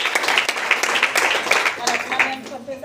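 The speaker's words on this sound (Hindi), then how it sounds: "उनको लिए जबरदस्त ताली होना चाहिए" An audience at a DXN business meeting in India claps in a dense burst of applause lasting the whole moment, loud and close with an uneven rhythm of many hands.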